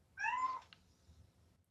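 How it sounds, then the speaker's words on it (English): Domestic cat giving one short, clear meow, close and fairly loud against quiet low background noise. "Interrupted by the cat."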